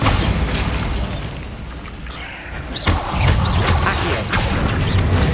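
Bombarda blasting spell going off in the Hogwarts Legacy video game on PS5, a loud booming burst near the middle followed by rumbling crashes over continuous dense combat noise.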